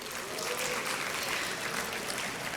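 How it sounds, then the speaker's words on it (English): Graduates at a De La Salle University commencement give themselves a round of applause, a dense, even wash of clapping from a large crowd sustained throughout. "So can we take this moment to give ourselves a round of applause?"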